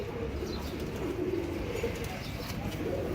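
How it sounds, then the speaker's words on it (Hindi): A female Nildumi (blue-tailed) pigeon coos softly. The low, murmuring coos sound quiet and fairly close over faint background noise. "ये नीलदुमी कबूतरी है"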